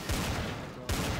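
Gunfire in Garry's Mod comes as two quick, loud bursts of rapid shots, about a second apart, with no talk over them.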